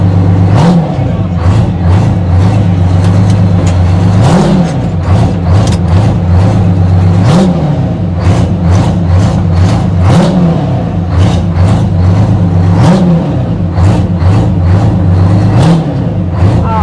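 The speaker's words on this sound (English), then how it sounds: "They want to see engines like this turned on and taken for rides" A 1000-horsepower Moore Mafia Super Rat hot rod engine revs loudly and close at a Pigeon Forge rod run, with a deep, steady idle rumble and repeated throttle blips every few seconds.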